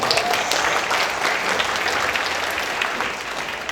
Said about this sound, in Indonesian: Tepuk tangan dulu mulai gitu coba.